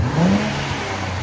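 A 2024 Nissan Z with a 3.0L twin-turbo V6 and AWE Track cat-back exhaust revs in one short, loud burst, rising then holding a steady drone.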